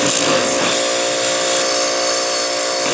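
Power sander running on an Oklahoma Joe's Highland smoker grill, a steady high whirring buzz that stays constant and close throughout, without talk.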